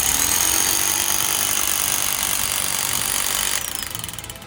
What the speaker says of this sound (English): make sure to drill 2 inches into the concrete